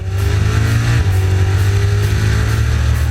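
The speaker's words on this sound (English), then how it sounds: "to the noise that a Hemi will make" Chrysler Hemi V8 engine rumbling at a car club show, a deep loud idle-to-rev burble with a strong low growl, close and continuous.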